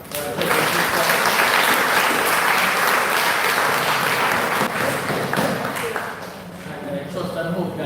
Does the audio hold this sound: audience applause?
yes